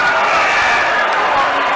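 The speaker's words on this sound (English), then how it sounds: "South Point crowd" South Point fans in a basketball gym cheer loudly after a layup and foul shot puts their team up by 8, a dense steady roar of crowd noise for the whole stretch.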